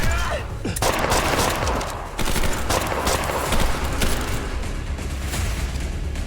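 Loud, dense gunfire in a video game, including pump shotgun blasts, with booms and rapid shots filling the scene almost without a break.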